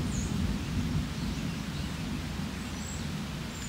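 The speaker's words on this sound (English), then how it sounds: "Thunder doesn't bother her." Thunder rumbles low and steady through a rainstorm, a continuous heavy roll with rain hiss on top and faint birds chirping now and then, no voices present.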